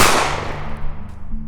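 A single sharp gunshot bang that cracks loudly at the start and decays quickly, followed by a faint low hum.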